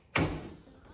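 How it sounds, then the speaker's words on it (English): A door is closed in a kitchen with one sharp, close thud, followed by a quick fading rattle and quiet room noise. "I'm just gonna close this door over."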